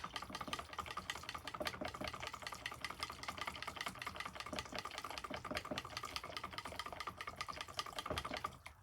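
A whisk stirs red colorant into cold process soap batter, a steady quiet rapid clatter and scraping that continues evenly for several seconds without speech.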